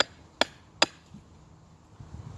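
Two sharp, close blade strikes bite into wood as a carved spoon is roughed out outdoors in a state park, followed by quieter scraping and handling sounds.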